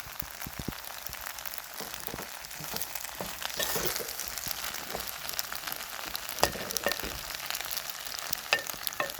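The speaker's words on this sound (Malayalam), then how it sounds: "ഫ്ലെയിം കൂട്ടി വെച്ചിട്ട് ഇളക്കി കൊടുക്കണം. ഇതിലേക്ക് ഗരം മസാല ചേർത്ത് കൊടുക്കുന്നുണ്ട്." A dish with garam masala frying on high flame while being stirred, an even close sizzle with crackles and light scraping taps of the spoon against the pan, no talking.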